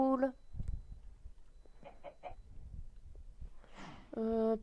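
Chickens in an island-life video game give a few short clucks, with a brief tonal game jingle at the start and end and some faint background sounds in between.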